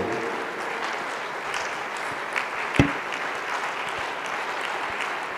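A church audience gives steady, moderate applause as Pastor Oladele heads to the podium, with one brief louder thump near the middle.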